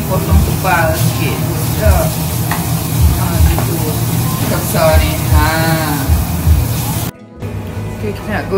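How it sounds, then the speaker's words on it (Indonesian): Oil sizzles and crackles steadily as anchovies fry in a pan, with a voice speaking over it and a brief cut near the end. "Goreng dulu ikan bilis."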